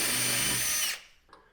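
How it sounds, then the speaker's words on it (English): A power drill whines loudly at high speed while drilling out a rivet on a Harbor Freight tool cart drawer slide, then stops abruptly, followed by a faint clink. "You're going to have to drill out the rivets."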